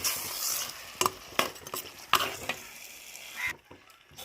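Chicken being stirred into fried chilli, coriander and turmeric spice masala in a hot clay pot, with scraping spoon strokes and soft sizzling, several sharp clatters standing out, close by and with no talking.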